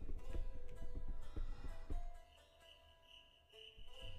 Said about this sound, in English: A little kind of a cricket.